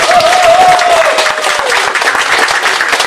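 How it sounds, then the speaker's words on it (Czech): A crowd at a Borovnice villages gathering bursts into sustained, loud applause, many hands clapping densely and continuously, with a faint voice trailing through at the start. "Můžeme zatleskat."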